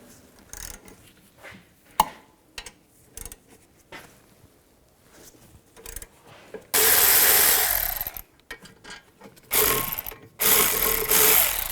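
Ratchet with a 15mm socket loosening rear brake caliper bolts on a 2010-2017 Chevrolet Equinox: scattered clicks and clanks, then loud sustained bursts of rapid ratcheting, close up with no talking.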